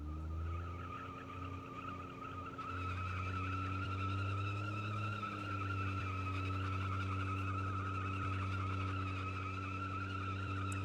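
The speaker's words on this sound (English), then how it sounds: "See if this thing will power brake." A car power braking on flat ground, engine held at steady high revs while a single wheel spins and peels, a loud continuous droning roar with squealing tire noise throughout.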